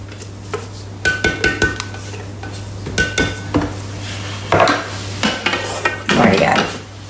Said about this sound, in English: So let's scrape that down.